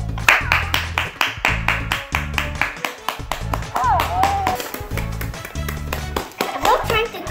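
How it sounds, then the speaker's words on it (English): Hands clap repeatedly for a Hatchimals spider toy, a string of close, bright claps in uneven bursts while children's voices chatter excitedly underneath. "It says that if it turns orange, we have to clap because it has the hiccups."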